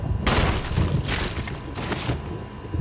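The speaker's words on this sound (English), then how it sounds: "Where are you shooting?" Video-game gunfire in Resident Evil Remastered HD: three loud, sharp shots or short bursts, spaced about a second apart, each ringing out over a steady low rumble, with no talking.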